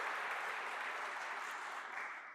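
An audience applauds at a G20 Think20 handover ceremony in Cape Town. The clapping is dense and even, heard from a distance and fairly quiet, and carries on through the whole moment.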